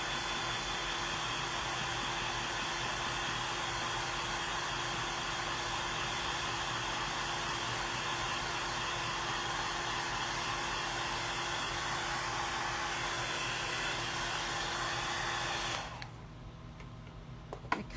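A hair dryer blows steadily on a freshly painted Christmas cookie craft piece, a loud continuous whooshing hum that runs without a break and then cuts off near the end, leaving quiet.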